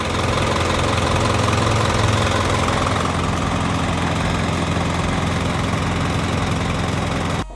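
Isuzu NPR truck's 150 hp diesel engine idling steadily, a loud, even low rumble with a faint knock that runs unbroken for about seven seconds before cutting off abruptly.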